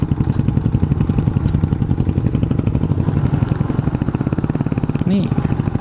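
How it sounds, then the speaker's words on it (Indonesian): A motorcycle engine runs on a forest trail with a close, steady, rapid putter throughout, and a brief higher tone near the end. "Suara motornya nih lumayan."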